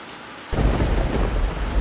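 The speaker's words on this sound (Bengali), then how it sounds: "হঠাৎ এক ঝলক বিদ্যুৎ চমকালো" Heavy rain bursts in with a low thunder rumble in a cartoon night storm, starting abruptly after a brief quiet moment and continuing loud and close.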